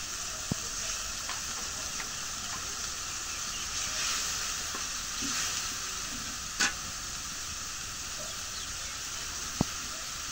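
Cumin and garlic paste frying in a pan, a steady soft sizzle that runs the whole time, with a few faint stirring knocks and one sharp tap near the end.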